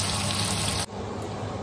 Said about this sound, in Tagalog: So, lagyan ko na ng tubig